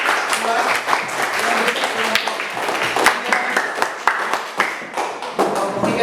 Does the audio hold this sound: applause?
yes